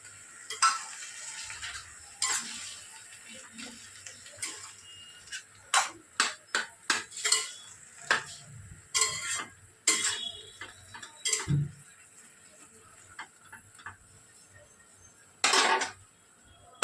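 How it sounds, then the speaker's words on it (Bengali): A spoon stirs a mustard, poppy seed and chilli paste into greens in a sizzling pan, giving sharp, irregular metallic scrapes and clinks over a soft frying hiss before the lid goes on; no talking. "মশলাটা দিয়ে নেড়ে চেড়ে ঢাকাটা দিয়ে রাখলাম।"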